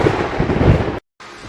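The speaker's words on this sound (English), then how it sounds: "I can use the stormy night to restart my investigation." A thunder rumble with rain on a stormy night in Identity V: Ashes of Memory, loud and broadband for about a second before cutting to silence, then a fainter rain-like hiss resumes.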